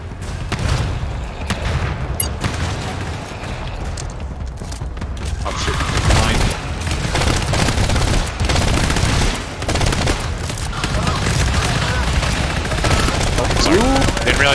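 Bursts of gunfire in the co-op shooter GTFO, dense rattling volleys and booms coming in waves over about fifteen seconds, with mechanical clanks between them and no clear talk.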